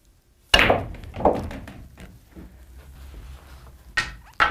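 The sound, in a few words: cue ball striking billiard balls in a pool trick shot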